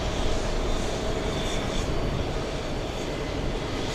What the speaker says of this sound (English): We have the Italians getting closer for the takeoff runway